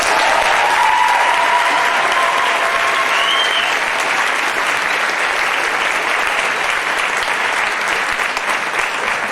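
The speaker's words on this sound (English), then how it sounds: "If I get a round of applause." A concert audience applauding the lead dancer of a Middle East dance ensemble, dense and loud sustained clapping that fills the room and carries on without a break.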